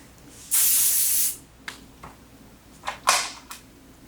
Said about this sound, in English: Have your hairspray bottle at the ready and just keep spraying.